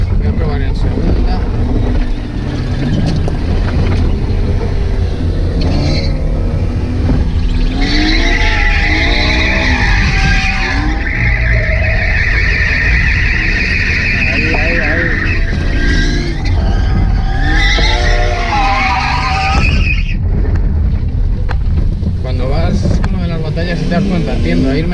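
A BMW E39 V8 drifts on a track, tires skidding and squealing in long sustained screeches over loud engine roar and wind buffeting, with people talking in Spanish inside the car.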